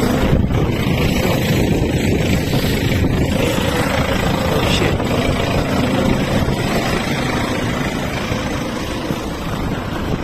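An MTZ 892.2 tractor engine labours under heavy load while stuck, pulling a loaded lawn; a loud, continuous low droning roar runs throughout with no pause, close to the listener.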